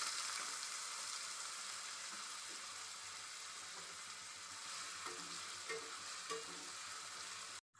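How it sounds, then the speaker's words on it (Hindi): Potatoes fry in hot oil left from frying peanuts, giving a soft, even sizzle and crackle that runs steadily at a gentle distance until it cuts off abruptly at the end. "उसी तेल में अब मैं आलू फ्राई करूंगी।"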